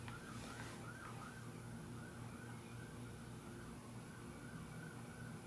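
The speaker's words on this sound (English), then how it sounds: "I don't believe that those sirens are for me" A faint, distant wailing siren rises and falls under heavy background hiss, continuing without a break and with no talking.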